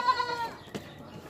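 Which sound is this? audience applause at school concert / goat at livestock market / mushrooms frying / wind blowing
goat at livestock market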